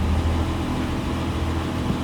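An old project car's engine idles smoothly after an overheating fault was fixed, a steady low rumble held close and even with no talk.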